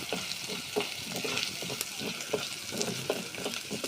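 Whole spices (cinnamon, cardamom, cloves, bay leaf and stone flower) sizzle steadily in hot oil while tempering for a chicken fry with chana dal, with close stirring scrapes over a continuous crackle.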